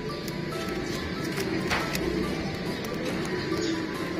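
Misse dub pigeons, a rare colour variety, cooing softly in a loft, low throaty coos repeating over a steady background hum without talk.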